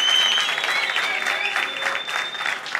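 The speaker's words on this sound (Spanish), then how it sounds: "Mano, no dejan de aplaudir." Crowd applauding at a freestyle rap battle, a dense steady clatter of many hands with faint shouts and whistles mixed in, fairly close and sustained throughout.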